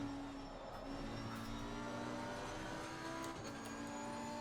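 A race car engine drones and revs at moderate volume in the sim racing game Assetto Corsa Competizione at Laguna Seca, a sustained tonal whine rising slightly with occasional shifts, with no talking.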